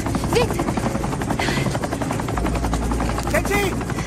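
A helicopter takes off, its rotor beating in a loud, rapid chop that runs throughout, while people shout urgently over the noise.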